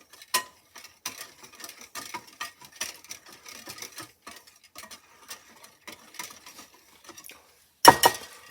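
Dry sugar cookie ingredients with salt being mixed in a bowl: soft, irregular scraping and ticking taps of a utensil against the bowl, quiet and close, ending with a louder knock.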